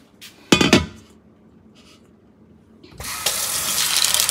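Lentils are rinsed under a running tap. A couple of sharp knocks come first, then water gushes steadily and loudly for the last second and a half.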